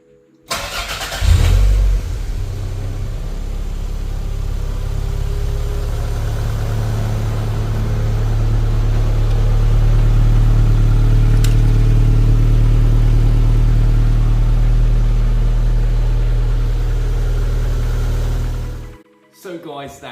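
A track car's engine, freshly swapped in, cranks and catches, then runs loud and steady with a deep low rumble for about seventeen seconds before cutting off abruptly.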